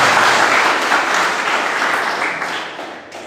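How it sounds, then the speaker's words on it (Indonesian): A church congregation applauds together in a loud, dense wash of clapping that holds steady, then gradually thins and fades toward the end. "Yang percaya tepuk tangan buat Tuhan"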